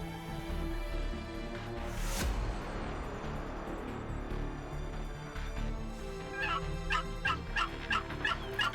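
Wild turkey gobbler on a turkey hunt, with a burst of several rapid gobbles toward the end, moderately distant over a steady outdoor background, following a brief louder rustle.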